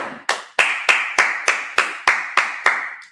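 A congregation at a Sabbath service claps hands in a slow, even rhythm, ten crisp unison claps spaced roughly a third of a second apart, loud and close.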